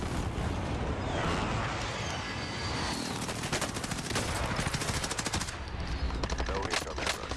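An airstrike in the video game Warzone, rapid continuous machine-gun bursts and heavy gunfire rattling loudly, with a dense crackling barrage and a brief spoken line partway through.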